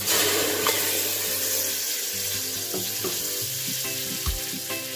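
Two ounces of butter melts in a pan for an alfredo sauce with seafood pasta, giving a steady, close frying sizzle that crackles softly throughout, with a few faint clinks and no talking.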